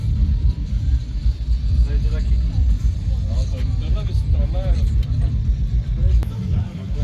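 A restored Oldsmobile with a 7-litre engine idles steadily, a deep, continuous low rumble filling the whole stretch, with people talking over it.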